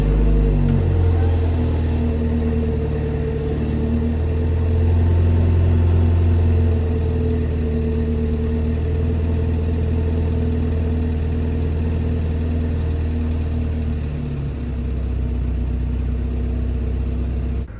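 A 2021 BMW 330i xDrive idles steadily and fairly loudly just after a cold start in sport mode, with a constant low engine drone and a slight dip late in the clip.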